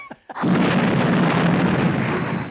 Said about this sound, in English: Pretty handy with his fireworks, wasn't he?